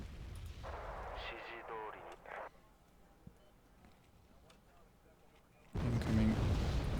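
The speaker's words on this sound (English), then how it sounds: "Incoming mortar fire. Short range mortar fire too." Mortar shells landing in the game Wargame Red Dragon, a series of heavy booming blasts with rumbling tails, loud at the start and again near the end, quieter battle ambience between.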